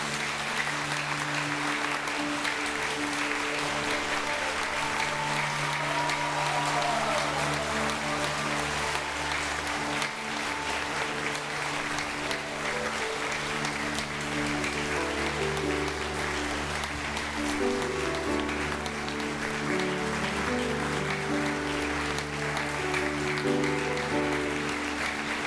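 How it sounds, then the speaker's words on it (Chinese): Sustained, even applause fills a church as a congregation welcomes the vice president, steady clapping from many hands over a faint background hum. "咱这是咱热烈的掌声来欢迎咱的副总统来到咱中间"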